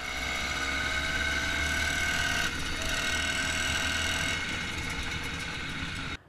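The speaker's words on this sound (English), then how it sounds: "While the 2-stroke has a more of a raspy, whiny sound" A 2-stroke motorized bicycle engine runs steadily with a raspy, whiny tone, close and loud, holding a constant drone before cutting out abruptly at the very end.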